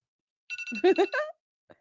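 A mobile phone rings with a short burst of bright, repeating electronic ringtone notes lasting under a second, close and fairly loud, followed by a faint brief tap.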